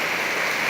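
Heavy rain pouring during a summer storm at night in Sung Noen, Korat, a dense, loud, unbroken hiss of water with no voices over it.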